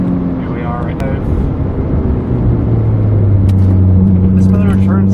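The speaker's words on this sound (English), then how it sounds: "This motor turns along really well, actually." Engine of a second-generation Scion tC while driving, a steady low drone with sustained humming tones that rise and shift with revs, heard under road rumble and a voice talking.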